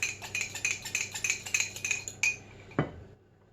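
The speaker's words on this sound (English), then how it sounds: "Sorry for the scraping noises." Rapid metallic scraping of a utensil against a bowl of melted butter, repeated strokes ending with a couple of sharper clinks, close up with no talking.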